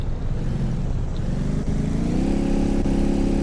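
A synthetic aircraft engine effect running in Unreal Engine 5 drones loudly and continuously, its pitch rising smoothly partway through like an engine spooling up, with no talk over it.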